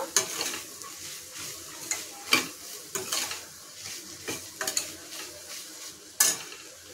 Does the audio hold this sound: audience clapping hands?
no